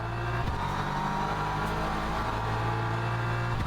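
A Porsche race car in Le Mans Ultimate drones past with a loud, steady engine note that holds its pitch with slight shifts.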